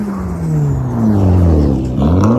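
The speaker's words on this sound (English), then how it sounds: "The guy out here drifting a wagon, though, is awesome." A wagon drifting at a drift event, its engine loud and close, revving and dropping in pitch with a sharp rise near the end, tires and motor dominating without speech.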